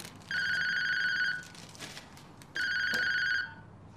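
A telephone rings twice in an indoor scene, each electronic bell burst lasting about a second with a pause between, fairly close and clear against quiet room tone.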